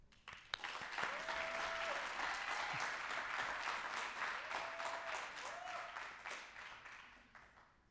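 A conference audience applauds steadily for several seconds, with dense, even clapping that fills the room at moderate distance and fades slightly at the end.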